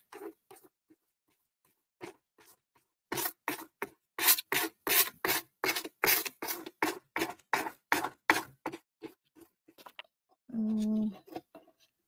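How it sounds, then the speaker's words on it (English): Sandpaper rubs the edges of an Art Deco mixed media panel in a quick run of close, rhythmic rasping strokes, slow at first and then faster, followed by a brief tonal hum near the end. "Let's get a little bit of sandpaper. And let's get these edges"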